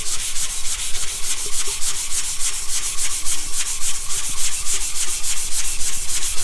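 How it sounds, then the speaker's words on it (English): Hand sanding a tumbler cup in circular motions, a steady, close, rhythmic rasping scrub that pulses with each pass and continues without pause, with no talking. "I'm just now getting around to sanding it."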